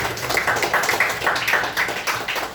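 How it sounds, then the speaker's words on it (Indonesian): Students in a classroom clap for a classmate, a brisk burst of mixed hand claps that stays fairly even and close for a couple of seconds. "Kita beri tepuk tangan untuk Edwin"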